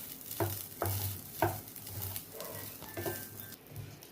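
A spoon stirs saffron payesh, rice cooking in milk in a pot, giving soft rhythmic scrapes and a low bubbling murmur, close and fairly quiet.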